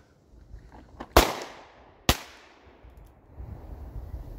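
Two sharp, loud gunshots from a .500 Magnum revolver or 12 gauge slug at an outdoor range, about a second apart, each with a quick echoing tail, followed by faint background rumble.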